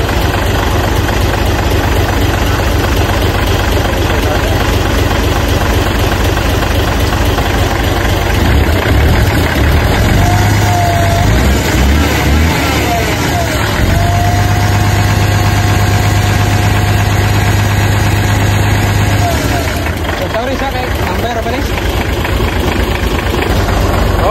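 A Mitsubishi 6M70 truck diesel engine with a single EGR setup runs and idles loudly up close, with a steady knocking rumble and a brief pitch rise midway before settling back.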